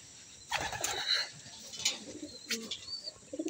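Racing pigeons released to fly out in open air, wings flapping in brief bursts with soft cooing nearby, fairly faint and outdoors.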